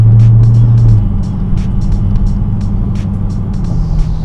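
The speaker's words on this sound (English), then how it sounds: "this is the audio coming directly from the dash cam. All the windows are rolled up and I'm just cruising down the road" Steady low engine and road hum inside a car cruising with all windows rolled up, picked up by a Thinkware F770 dash cam; a constant loud drone with faint ticks and rattles, no talking.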